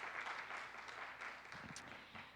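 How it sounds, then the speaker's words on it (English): Steady applause from an evening lecture audience welcoming faculty members, a dense wash of many hands clapping at moderate distance, fairly quiet and even throughout. "round of applause for the faculty being here tonight"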